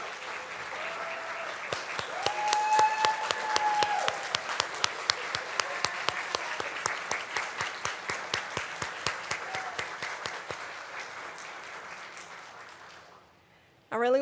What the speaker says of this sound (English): Can we get another round of applause for our graduates and alumni?